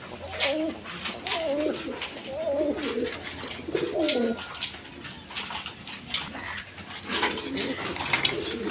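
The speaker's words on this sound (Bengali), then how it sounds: "এক পেয়ার গিরিবাস কবুতর আছে, হাই ফ্লাইং গিরিবাস কবুতর" Pigeon cooing from a pair of high-flying Giribaz pigeons, several rolling coos close by in the first half and again near the end, over steady background noise.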